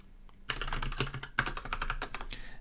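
Someone typing a command on a computer keyboard while setting up a Raspberry Pi 4, a quick close burst of key clicks, a brief pause, then another run of taps.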